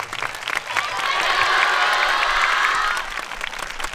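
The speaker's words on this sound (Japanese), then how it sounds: "もう一度大きな拍手をお願いします。" Big outdoor crowd applauds and cheers after a yosakoi dance team's award performance at a festival's open-air main stage, a dense wash of clapping swelling for about two seconds, then fading.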